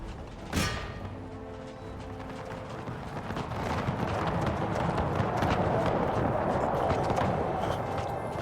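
Cavalry horses gallop in an Empire: Total War battle, a dense rolling rumble of hooves that builds from a sharp early thump into a sustained, loud thundering mass with crackling battle noise.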